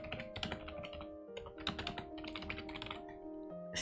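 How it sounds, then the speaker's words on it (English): Rapid keystrokes on a gaming computer keyboard, close and crisp, with irregular bursts of clicks and no talking. "I can order a different keyboard for typing specifically. This one is for gaming."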